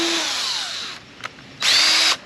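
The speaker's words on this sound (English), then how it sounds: "I'm just going to send the smallest, tiniest little drill bit through" A small drill bit whines at high speed into fiberglass in two short bursts, with a brief quiet gap and a tap between them.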